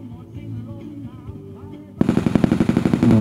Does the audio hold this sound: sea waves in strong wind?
no